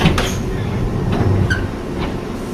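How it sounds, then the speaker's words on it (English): A London Underground Piccadilly line train runs between stations, a steady loud low rumble of wheels and motors with brief metallic squeaks and clicks over the top. "I'll stay on this train all the way to Uxbridge"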